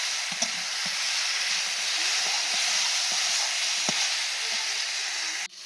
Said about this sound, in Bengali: দেখো এইভাবে একটু ভাজা ভাজা করে নিলাম সবজিগুলো।